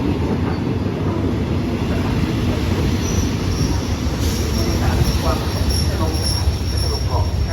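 Passenger train 455 pulls into Phatthalung station while train 448 waits on a passing track. The loud, steady rumble of railcars is joined by squealing wheels and clicking over the rails, with voices in the background.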